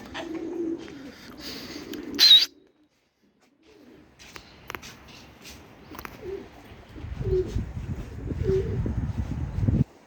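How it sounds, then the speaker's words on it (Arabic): Pigeons in a loft in Tabarbour, Jordan coo in low, throaty bursts, with a brief sharp chirp and a few flutters, close by and fairly quiet, with no talk. "شايفين طبعا الحمام لسه بتتلين"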